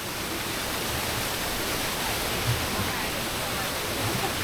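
Krok E Dok waterfall at its fourth tier in Khao Yai National Park, a steady, loud, broad roar of falling water close by, with no break.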